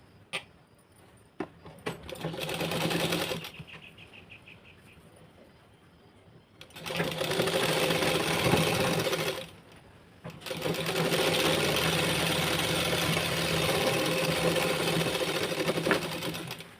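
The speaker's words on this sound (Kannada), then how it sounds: "ಇವಾಗ ಒಂದು ಫ್ಯಾಬ್ರಿಕ್ಕು ಒಂದು ಲೈನಿಂಗ್ನ ತಗೊಂಡು ಇವಾಗ ಸ್ಟಿಚ್ನ ಹಾಕ್ಲಾತ್ತೇನೆ" Sewing machine stitching fabric and its lining for a blouse, running in steady loud bursts with short pauses between runs and a few light clicks and rattles early on.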